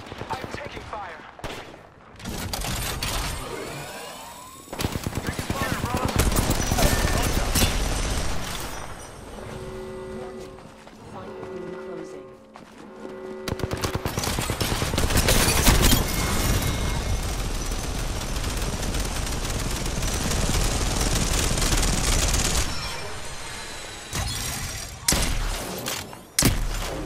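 Apex Legends battle royale gunfire: rapid, loud bursts of automatic weapon fire and impacts stack up almost without pause across the whole stretch, with a short lull before the shooting resumes.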